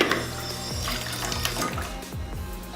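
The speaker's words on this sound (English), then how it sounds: "start running water through this" Water runs and gurgles through a La Marzocco Linea Mini espresso machine during maintenance, a close, steady liquid rush with a few swirling, draining sweeps.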